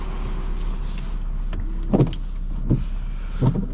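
The electric sunroof motor of a 2010 BMW 535i xDrive whirs inside the cabin, a steady hum under a low drone, with a few short clunks as the panel moves and stops.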